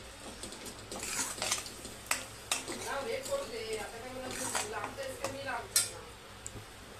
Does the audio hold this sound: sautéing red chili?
yes